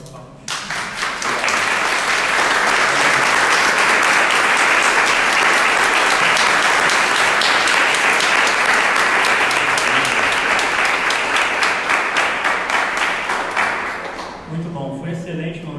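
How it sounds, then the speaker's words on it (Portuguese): A seated audience at an Archdiocese of Rio de Janeiro episcopal vicariate gathering claps for a guest. The applause is loud, dense and sustained for about thirteen seconds, then fades into murmuring voices at the end. "eu peço uma salva de palmas"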